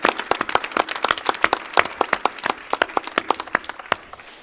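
Applause from a small audience at an entrepreneurs' event, many sharp individual claps in a steady irregular patter that thins out toward the end.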